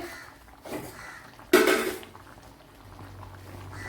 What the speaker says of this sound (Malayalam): ചൂടുവെള്ളം വേണം ഒഴിച്ചു കൊടുക്കാൻ